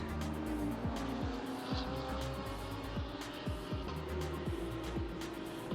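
McLaren and Lamborghini GT race cars screaming around Sepang International Circuit in a GT Asia and Thailand Supercar race, with loud engines rising and dropping through repeated gear shifts, tyre squeal mixed in.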